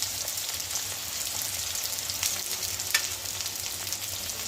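Potatoes fry in a pan with chopped onion and salt, a steady close sizzle with occasional crackles and stirring scrapes, no voices.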